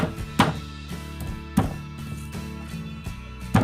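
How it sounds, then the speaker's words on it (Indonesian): Ginger and galangal bashed flat for cooking, three heavy, well-spaced thuds on a board against a quiet kitchen background, no talking. "Jahe kita geprek saja, lengkuas digeprek juga"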